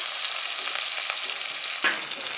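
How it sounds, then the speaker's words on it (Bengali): Chilli and onion sizzle hard in hot oil over a cumin tempering, a steady bright frying hiss with a brief stir or spatter partway through, close and with no talk. "জিরে ফোড়ন দিয়ে লঙ্কা, পেঁয়াজ এগুলো দিয়ে দিলাম।"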